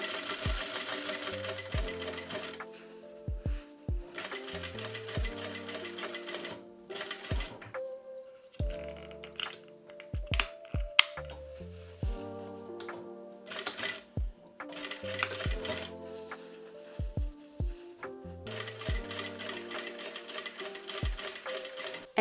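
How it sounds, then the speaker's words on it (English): A sewing machine stitches skirt fabric in repeated close bursts of rapid needle chatter, starting and stopping several times with short pauses and clicks between runs. "first sew with a long basting stitch, then make a back stitch and continue sewing with the regular stitch lengths"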